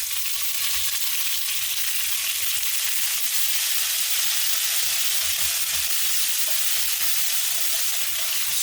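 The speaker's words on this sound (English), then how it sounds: "I'm going to add in half of the red wine, give or take" Red wine poured into browning onions in a pan, giving a steady, close, loud sizzling hiss that carries on without a break, with no talking.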